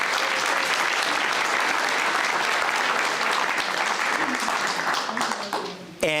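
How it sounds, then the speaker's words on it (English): A large crowd applauds volunteers at a Guide Dogs for the Blind graduation ceremony. The clapping is loud and continuous, holds steady for about five seconds, then thins out and stops near the end. "A big round of applause for all of our volunteers."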